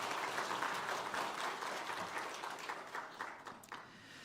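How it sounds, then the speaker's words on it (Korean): A church congregation applauds in welcome for two new choir members, steady dense clapping filling the room throughout and thinning slightly toward the end. "잠깐 자리에서 일어나 주시면 우리 환영의 박수 하겠습니다."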